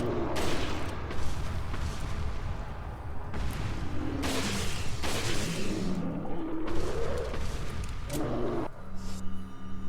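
Gunfire and heavy booming impacts in the video game Resident Evil 4 during a fight with a giant, repeated loud blasts and crashes over a rumbling, chaotic background.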